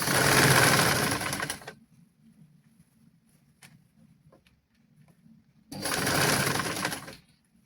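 A sewing machine stitching children's pants runs in two loud, close bursts of rapid whirring, the first about two seconds long and the second more than one, with a quiet pause of faint handling noises between them.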